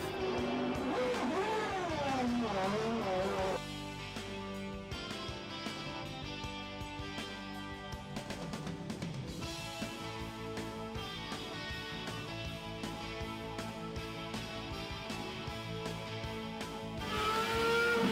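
A Mercedes race car from 1998 motorsport accelerates hard out of a pit stop, its engine roaring loud and continuous with rising, sweeping revs through about eighteen seconds.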